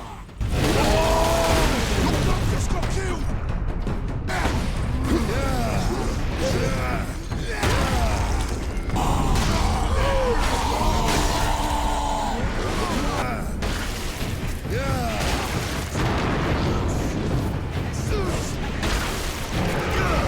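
Melee combat in the video game Warhammer 40k Space Marine: dense, continuous clashing, crunching impacts, bursts and grunts from close-quarters executions, with voices throughout the fighting.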